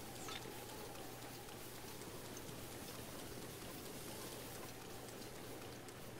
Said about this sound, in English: now here comes the rain.